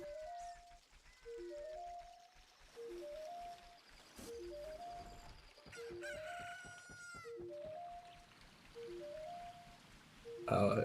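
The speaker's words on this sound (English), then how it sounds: "Aosuna just has, like, vanilla chicken noises" Chicken noises in Ocarina of Time randomizer gameplay, repeated short clucking calls in a bouncing rhythm over game sound effects, with clicks and a louder burst at the end.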